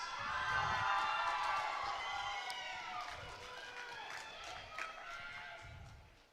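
A home crowd at a US Open competition night cheers and whistles for a competitor, a faint, distant swell of shouts and whoops that rises and falls.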